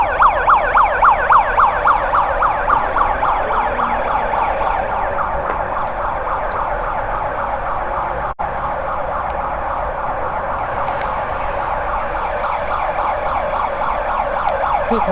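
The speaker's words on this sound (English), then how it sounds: "There is a fire engine," A fire engine siren wails loudly on a city street with traffic, its rising and falling yelp sweeping repeatedly at first and then settling into a steady, continuous wail close by, with no talking.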